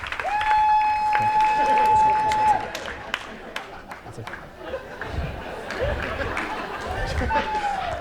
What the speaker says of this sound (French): on applaudit Éric Leclerc très, très fort, s'il vous plaît